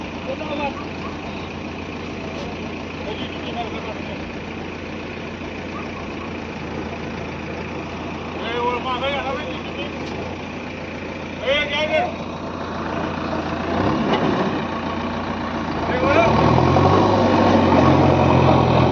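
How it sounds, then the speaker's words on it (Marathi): A JCB excavator's engine rumbles low and steady while the machine is moved aside on a jammed highway lane near the new Khambataki tunnel at midnight, with traffic noise and people talking around it; the engine grows louder toward the end. "तर JCB बाजूला केलं जात आहे"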